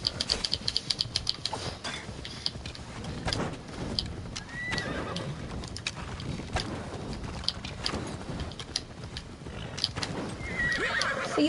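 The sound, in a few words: horse neighing and hooves in Assassin's Creed video game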